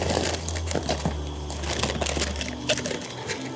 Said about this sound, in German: Und zwar öffnen wir jetzt die Chips-Tüte.